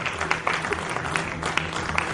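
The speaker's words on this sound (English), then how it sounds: "Ladies and gentlemen, a big round of applause." Audience applause at a technology awards event welcoming a panel guest: a steady wash of many hands clapping, moderately distant and even, without talk.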